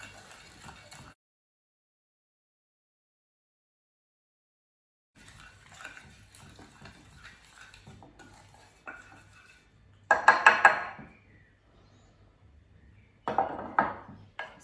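Utensils clatter and scrape against a bowl while seasoned pork chops with salt, pepper and vinegar are tossed together, with short bursts of clinking between quiet stretches and one long silent gap.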